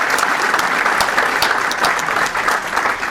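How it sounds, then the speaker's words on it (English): A large audience at the 2016 Burbank Police Awards Luncheon bursts into loud, dense, steady applause that fills the room, with no speech over it. "How about a round of applause for that batch?"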